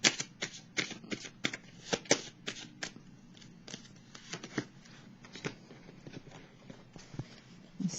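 Tarot cards are shuffled and laid down close by in quick, papery flicks and riffles, an irregular run of soft slaps and snaps under quiet room tone.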